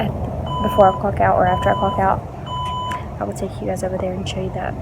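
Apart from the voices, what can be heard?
phone beeping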